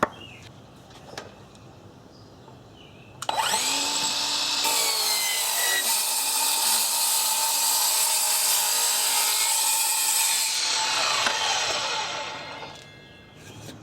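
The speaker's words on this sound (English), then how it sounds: "My last miter saw was having a tough time with this. Let's see how it does. Half-inch plywood." A Craftsman V20 cordless miter saw with its factory 40-tooth blade cuts through half-inch plywood, a loud, close, sustained whine and rasp of roughly eight seconds that spins down at the end, with no talking.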